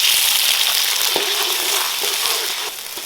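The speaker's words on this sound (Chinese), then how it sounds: "锅头剩一点底油，把刚刚泡水的那些葱姜啊、大料、香料放进来，" Scallions, ginger, star anise and spices drop into a thin layer of leftover oil in a wok, giving a close, continuous frying hiss with small crackles that eases slightly toward the end.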